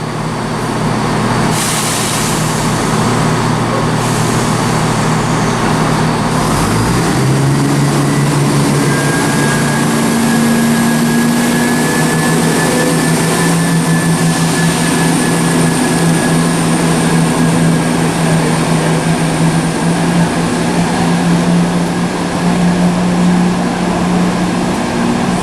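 A ScotRail Class 170 diesel multiple unit departs Stirling station, its engine drone rising steadily into a loud, sustained roar with a climbing whine as it pulls away close by, with no talk over it.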